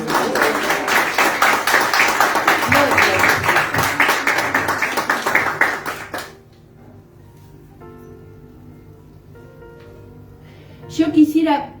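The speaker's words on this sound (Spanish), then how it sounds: "Dale un fuerte aplauso." A church congregation gives loud, dense applause lasting about six seconds, then falls to a quiet room before someone speaks again at the end.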